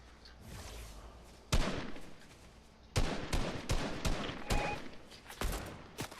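Video game gunfire comes in sharp, loud bursts and single cracks at irregular intervals, several shots clustered together against a busy background.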